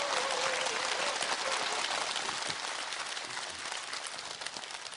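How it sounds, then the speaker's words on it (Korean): An audience applauds to welcome the lecturer at a televised laughter talk, a dense wash of clapping that starts strong and gradually tapers off. "여러분 큰 박수 부탁드립니다."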